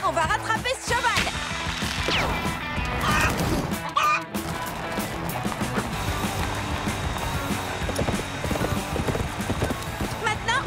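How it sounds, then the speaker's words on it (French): Cartoon horse galloping with a quick, steady clip-clop of hooves, loud and close, mixed with music, crashing effects and excited character voices. "On va rattraper ce cheval!"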